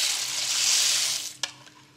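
Lentils and yellow split peas being stirred in a pot make a steady, close hissing rush that fades near the end, followed by a single sharp scrape or knock and softer movement, with no talking.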